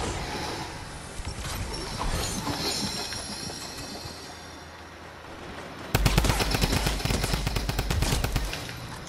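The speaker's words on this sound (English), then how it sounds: "I shoot once and shoot twice, and it goes so slow." Guns fire in the Fortnite video game: after a stretch of busy game noise, a loud burst of rapid shots rattles out for a couple of seconds.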